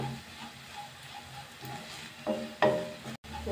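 A spoon scrapes and stirs fried onions with chili powder and ground spice paste in a hot pan for an egg roast, giving soft sizzling and a few sharper scrapes near the end, close and moderately quiet.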